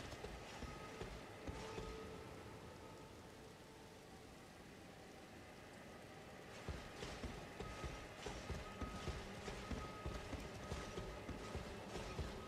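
A horse gallops in Elden Ring during a Tree Sentinel encounter. Faint, muffled hoofbeats pick up into a steady rhythmic clip-clop over a quiet game ambience.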